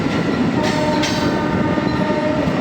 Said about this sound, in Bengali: ট্রেন এখন ছুটে চলেছে কৃষ্ণনগরের দিকে।